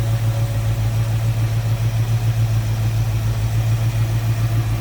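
A 1966 Ford Mustang convertible's 289 V8 engine idles steadily, a smooth, even rumble with a faint rhythmic pulse and no voices.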